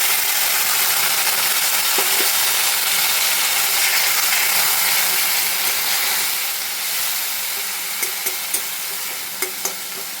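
Onion and garlic frying in a pan, a loud continuous sizzle and steamy hiss after a little water goes in, easing off toward the end with a few clicks of stirring.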